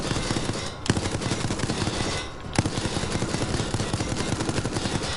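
Relentless machine gun fire in the survival horror game Resident Evil Resistance, a dense rapid stream of loud shots with only two brief gaps, close and harsh, with no voices over it.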